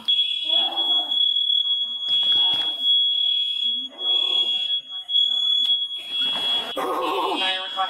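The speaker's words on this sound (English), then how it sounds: "This is why you want to make sure those fire alarms don't chirp." A fire alarm in a hotel during a bomb emergency sounds as a steady, piercing high tone that runs the whole time beneath loud, urgent shouting voices.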